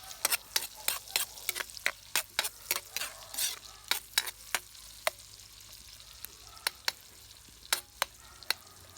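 Garlic, onion and ginger fry together in a pan for caldereta, with a steady sizzle under a rapid series of sharp spoon-against-pan scrapes and clacks as they are stirred, close and fairly loud, no talking.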